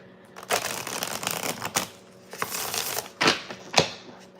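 A large tarot deck being shuffled by hand, giving a run of riffling card bursts and sharp snaps, with loud clusters near the start, middle and end and no talk.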